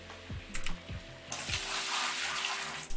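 Water flows in the Gold Rush video game, a broad, steady rushing gush that starts abruptly and continues loudly after a few soft tonal notes and clicks.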